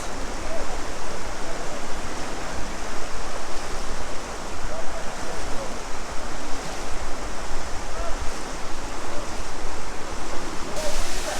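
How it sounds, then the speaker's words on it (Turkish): A waterfall in a canyon stream roars as a dense, steady rush of falling water, loud and close, filling the whole stretch without letting up; voices from a group may be mixed faintly into the wash. "şimdi şelalenin olduğu yere geldik"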